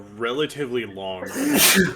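A voice talks briefly, then a single loud, sharp sneeze bursts out near the end, close to the microphone.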